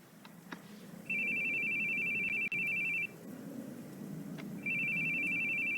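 Phone ringing in the video game A New Story: two long bursts of a loud, steady electronic trill, each about two seconds, separated by a short pause, over quiet low background music.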